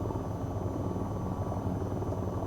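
The AH-94 helicopter in VTOL VR gives a steady, dense rotor and engine roar, loud and continuous throughout with no talking.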